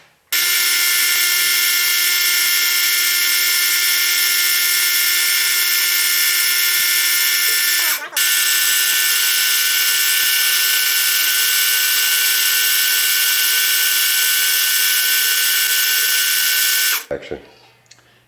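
Burr grinding a black omphacite jadeite bead, a loud, steady high-pitched whine of a spinning rotary tool held for about seventeen seconds with a brief dip midway before stopping.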